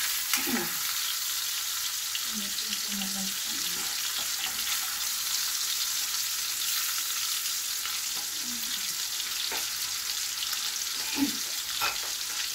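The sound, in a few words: pork frying in a pan until browned, for pinakbet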